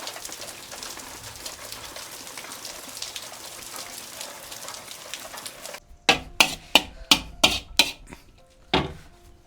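Heavy rain pours in a steady dense hiss for about six seconds, then gives way to a series of sharp, evenly spaced knocks or clatters, like drops or objects striking a hard surface nearby.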